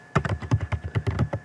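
Computer keyboard being typed on while Python code is entered: about ten crisp, close keystrokes in a quick, slightly uneven rhythm over a second and a half, with no talking.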